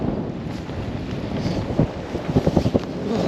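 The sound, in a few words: cool wind at anchor on a sailboat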